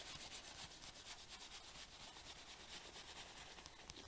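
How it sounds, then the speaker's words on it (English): Excess paint is rubbed off metal foil tape in a steady run of quick, close, dry scrubbing strokes, faint and with no talk. "So I'm just going to continue rubbing off the excess paint."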